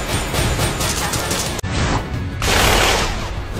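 Dense, rapid gunfire rattles continuously with crashing impacts as homing bullets hit a dungeon boss, broken by a brief cut, then resumes as a loud sustained barrage.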